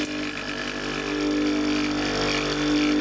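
A freezer compressor motor that is out of balance runs with a steady low hum and a faint rattly drone, moderately close, with a tone that rises slightly partway through and no talking.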